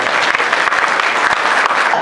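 Steady, dense applause from an audience at a railway division awards ceremony, loud and continuous throughout with no pauses.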